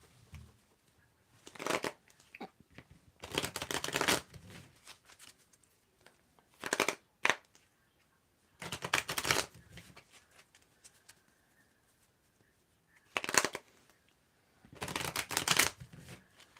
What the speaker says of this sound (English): Let's mix and match the cards.